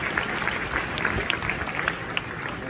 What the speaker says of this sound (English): Will you join me, please, in giving them a round of applause?